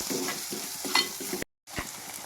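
Onions fry in a pan for an Alappuzha-style fish curry as turmeric and spice powders are stirred in, giving a steady close sizzle with scraping stirs and a brief gap of silence.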